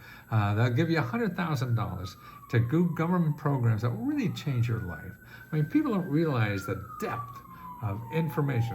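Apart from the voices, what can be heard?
siren passing outside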